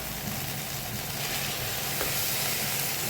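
Ginger-garlic paste hitting hot masala for a chickpea-greens curry gives a loud, dense, continuous sizzle and hiss, close up and unbroken, with no talking.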